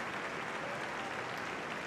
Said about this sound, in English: So the player gets a sympathetic round of applause